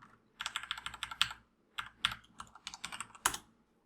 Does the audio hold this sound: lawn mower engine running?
no